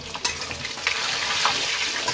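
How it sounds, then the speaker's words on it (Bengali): Sliced onion fries in oil with salt in a home kitchen, giving a steady, close sizzle with small pops and crackles throughout. "পেঁয়াজটা ভাজা হলে তেল ছেড়ে যাচ্ছে।"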